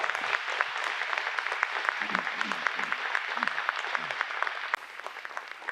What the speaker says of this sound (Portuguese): Vamos dar uma salva de palmas para Jesus, irmãos, bem bonito.